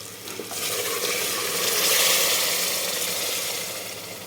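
Mutton broth poured onto sizzling fried masala in a pan for kanduri mutton, a dense, steady frying hiss that swells and then eases, with faint stirring scrapes and no voices.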